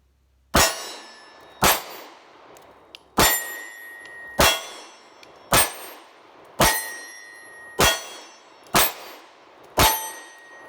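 Nine loud, sharp shots from a Bersa TPR9C 9mm pistol ring out at a steady pace of roughly one per second. Each crack carries a short ringing tail, and no talking is heard between them.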